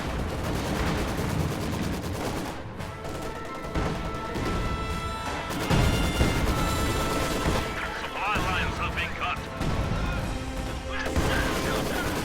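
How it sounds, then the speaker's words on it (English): Heavy mortar high-explosive barrage shells burst in a real-time strategy battle, repeated booming impacts and crashes mixed with machine-gun fire, steady and loud under a commentator's running talk. "heavy mortars continuing to fire."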